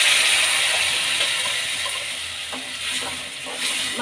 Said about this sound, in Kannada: ಈರುಳ್ಳಿ ಫ್ರೈ ಆಗಲಿ ಎಣ್ಣೆಯಲ್ಲಿ ಚೆನ್ನಾಗಿ